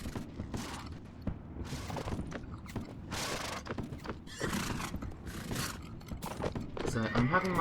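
Cavalry horses charging in the Napoleonic battle game L'Aigle, with repeated whinnies and neighs, hoofbeats and creaking over battle noise, while a voice talks throughout.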